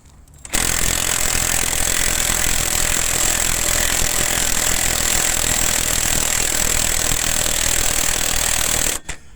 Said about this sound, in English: Remember that Chinese impact gun